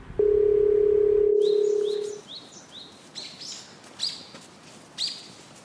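A single long ringback tone sounds loud and steady for about two seconds when a phone call is placed, then stops. Faint bird chirps continue in the background.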